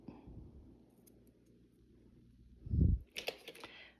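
Scissors snipping knitting yarn while finishing and weaving in ends, a single close, fairly soft cut near the end after a low handling rustle.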